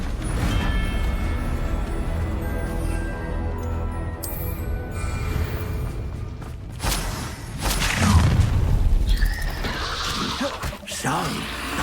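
A Confringo fire spell explodes in the Hogwarts Legacy game. A loud burst of impact breaks through a bed of sustained orchestral music, followed by rumbling debris and whooshing effects.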